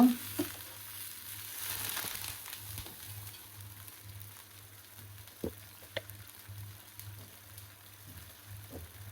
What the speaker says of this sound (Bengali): পেঁয়াজটা ভাইজা মশলা কষায় নেবো আস্তে আস্তে